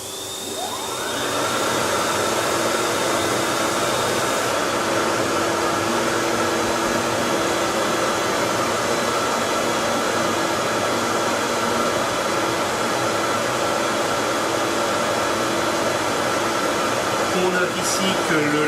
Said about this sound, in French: Actuellement, la machine grave en balayage